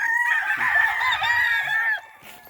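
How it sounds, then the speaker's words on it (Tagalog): Roosters and hens, white-legged and green-legged fowl on a backyard farm, crowing in one long drawn-out call of about two seconds, fairly close and loud, followed by a short soft tail of quiet. "Ito yung magandang manok eh, white legs, green legs pala ito."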